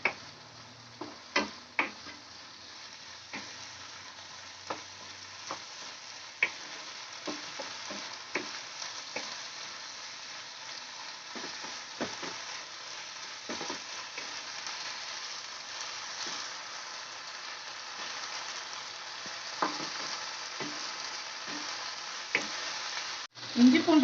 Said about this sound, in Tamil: இஞ்சி பூண்டு பேஸ்ட் சேர்த்துட்டு நல்லா வதக்குங்க.